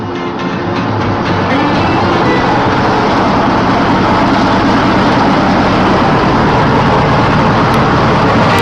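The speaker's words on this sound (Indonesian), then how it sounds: "penggunaan mesin penghalus singkong sangat membantu para pekerja untuk menyelesaikan tugasnya" A cassava grating machine runs steadily, a loud continuous mechanical grinding drone with a low rumble that fills the whole stretch without pause.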